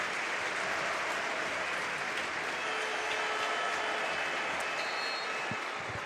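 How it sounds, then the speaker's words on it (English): A stadium crowd at a Barcelona football match applauds in a dense, steady wash of clapping that holds at an even level throughout, with no individual voices standing out. "Generous applause for both."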